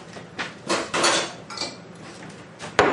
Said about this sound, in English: We got to mix the nuts in with it.